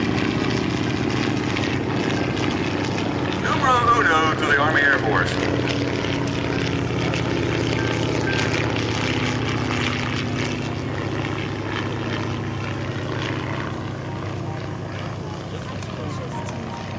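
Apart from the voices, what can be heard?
silver PT-23 primary trainer airplane flying by at airshow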